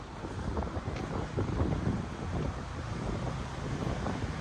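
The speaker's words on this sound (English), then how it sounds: "It's quite windy" Steady wind buffets the microphone on a warm, windy walk beside the River Thames near Battersea Bridge in London, a continuous low roar with no talking.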